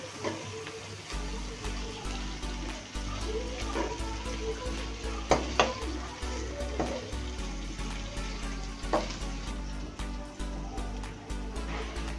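Mutton sizzling and frying in a pan while being stirred, a steady close crackle with scattered scraping clicks from the stirring, no voices.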